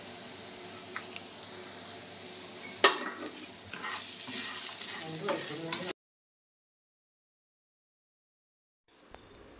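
Finely chopped onion fries in a pan for thattukada-style chutney, a close sizzle broken by scraping stirs for several seconds before going silent, then faint sound returns.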